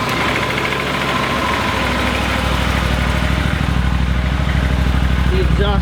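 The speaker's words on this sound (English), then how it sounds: "let me start that up. It's just a really good, solid bike." A motorcycle engine idles in a garage with a steady, loud, close rumble that holds without a break from start to finish.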